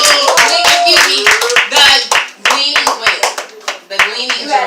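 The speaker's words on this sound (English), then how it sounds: "Y'all clap it up one more time for the Gleaning Lady" An audience at a poetry open mic claps in uneven bursts of sharp handclaps, loud and close, while voices talk and call out over the clapping.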